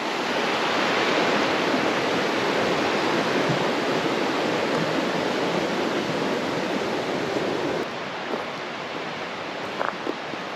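Creek water flows steadily in the Alaskan wilderness, a dense, continuous rushing wash heard close and loud throughout, with a slight drop in level near the end.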